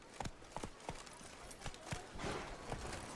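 Roach the horse gallops in The Witcher 3, hooves clip-clopping in a quick, uneven rhythm over a soft ambient bed, moderately close, no talking.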